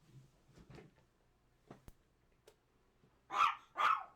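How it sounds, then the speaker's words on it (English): Dogs indoors give two loud, sharp barks in quick succession near the end, after scattered quieter thumps and shuffling in a mostly quiet room. "My dogs are just barking like crazy."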